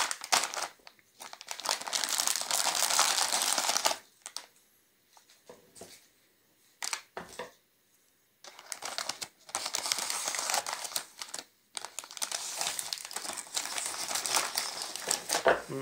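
Crinkling plastic wrapper of a banana-flavored cookie package torn open by hand, with loud bursts of crackling and rustling separated by short pauses, close to the microphone.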